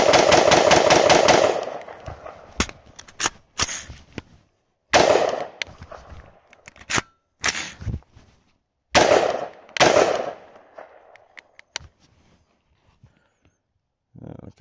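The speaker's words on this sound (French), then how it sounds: "Allez, on vide un chargeur" An AR-15 rifle fitted with a piston kit empties a magazine outdoors, starting with a rapid volley of loud cracks and then moving to scattered single and paired shots with pauses, while someone talks briefly between them.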